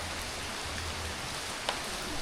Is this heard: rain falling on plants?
yes